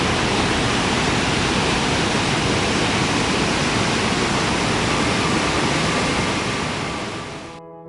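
Cascada del Molino, a waterfall in Valle de Bravo, Mexico, pours with a dense, steady roar that fills the whole clip, loud and close, before fading out at the very end.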